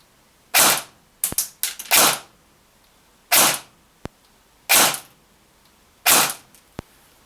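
KWA QRF Mod.3 airsoft SMG firing short bursts during a rate-of-fire test, loud close sharp reports in clusters of rapid shots separated by pauses, with no talk.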